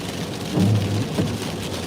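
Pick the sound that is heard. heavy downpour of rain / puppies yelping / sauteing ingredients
heavy downpour of rain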